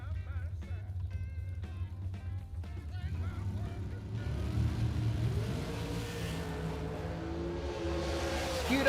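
Drag racing cars idle and rev at the starting line of a dragster event, with a low engine drone building into a louder, rising roar over several seconds as a commentator talks.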